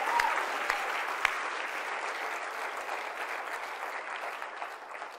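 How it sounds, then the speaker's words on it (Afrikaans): A congregation at a church service claps for Jesus in steady, sustained applause that fills the room and fades slightly toward the end. "Kom ons klap vir Jesus, kom aan, gee hom eer."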